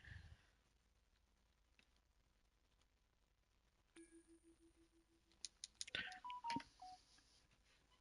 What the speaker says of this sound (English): Oh, the evil phone.